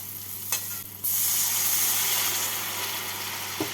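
Hot water poured into a pan of frying masala with sugar for an egg masala curry sets off a loud, steady hiss and sizzle that starts abruptly and carries on close up, with a faint clink near the end.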